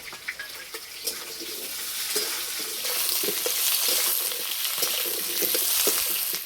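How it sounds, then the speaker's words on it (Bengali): Onion and potato sizzling in hot oil in a pan, seasoned with five-spice tempering and bay leaf, a steady loud fry with occasional stirring clinks and a brief trickle of water. "পেঁয়াজ আর আলু ভালো করে ভেজে নেব।"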